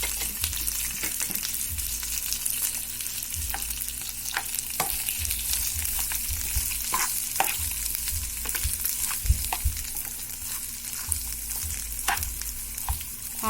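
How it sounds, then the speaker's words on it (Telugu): Onions, coriander, curry leaves and green chillies sizzle in a pan for a buttermilk rasam, a continuous hiss broken by repeated scraping stirs of the spoon, close and steady, with no talking. "ఆనియన్స్ కొద్దిగా ఫ్రై అవ్వనివ్వాలండి."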